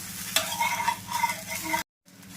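An onion dosa with onions cooking on a hot pan sizzles steadily under close scraping strokes, then cuts to brief silence before the frying sound resumes more faintly.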